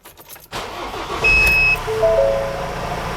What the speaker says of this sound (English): just start up the engine, rev it up, and see what we get